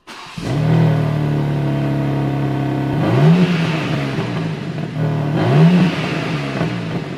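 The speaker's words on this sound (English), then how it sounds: "I would be so disappointed if I bought a BMW M3 brand new and it sounded like this" A stock BMW M3 Competition with its standard exhaust revs repeatedly, each rise in engine pitch sweeping up and falling back over a steady, fairly muted drone, close and loud.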